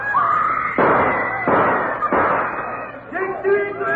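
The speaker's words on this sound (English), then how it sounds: "Gunshots have thrown the courtroom into turmoil." Gunshots ring out in a courtroom as a radio drama sound effect: three or four loud, sharp cracks in quick succession, with a shouting voice at the start and end.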